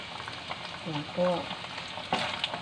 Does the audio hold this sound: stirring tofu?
yes